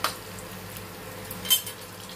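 Chana dal dhoka cakes frying in hot oil in a pan, a soft steady sizzle with light utensil clinks and a brief louder scrape partway through, no talking.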